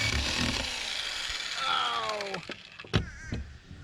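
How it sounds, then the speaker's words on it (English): A jigsaw cutting through wood during a boat haul-out project, a loud buzzing, rasping cut that runs steadily then falters and stops with a few sharp clunks near the end. "And I just broke a jigsaw blade, so another trip to the hardware store."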